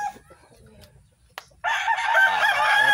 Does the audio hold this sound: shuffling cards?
no